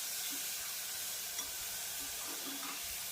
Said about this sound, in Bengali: তো পেঁয়াজটাকে একটু ভেজে নিচ্ছি